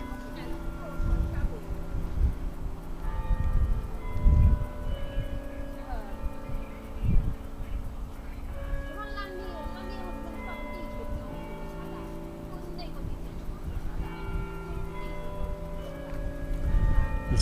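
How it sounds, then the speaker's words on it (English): Liverpool clock chime produced by amplified tuning forks rather than bells, ringing out as a series of clear sustained tones over steady outdoor hum and occasional thumps. "that is not bells, it's little like tuning forks that are amplified"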